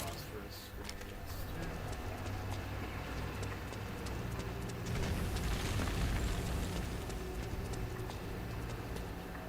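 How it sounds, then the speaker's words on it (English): Phosphorus grenades burst in Metal Gear Solid 4 on PS3 amid a dense, continuous clatter of game effects, with a heavier rumbling blast swelling near the middle before settling back. "Phosphorus grenades."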